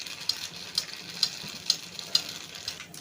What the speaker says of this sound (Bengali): মালপোয়াগুলোগুলি তেলে ভেজে নিচ্ছি